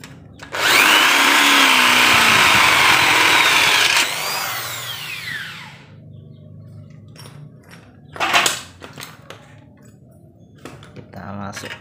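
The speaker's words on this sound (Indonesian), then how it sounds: "saya nanti akan melubang dengan mata bor 9 mili" A power drill with a 9 mm bit bores a hole for a vertical sliding window, whining loud and steady for about three seconds and then spinning down, followed by clicks and handling noises in a quiet room.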